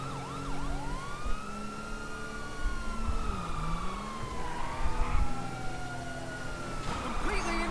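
A police car siren in a modded open-world crime game wails and yelps in rising and falling sweeps, continuous throughout, with engine rumble underneath and a sudden burst of noise near the end.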